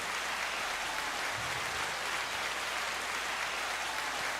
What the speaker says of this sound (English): Big claps again for Nicki Minaj